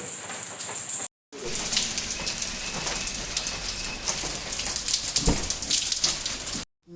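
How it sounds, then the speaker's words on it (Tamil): Heavy rain pouring steadily on a trip from Chennai to Pondicherry, a dense loud outdoor hiss with two brief dropouts where the sound cuts off. "மழை, செம்ம மழை"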